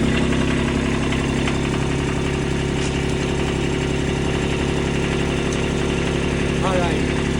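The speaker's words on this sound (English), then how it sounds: "So you're going to start the dingo. They're diesel dingoes, so you have a glow plug." A diesel Dingo compact loader engine runs at a steady idle, close and loud, with an even low mechanical rumble and vibration throughout and no talk over it.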